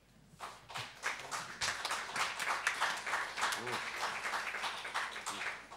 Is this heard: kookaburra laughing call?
no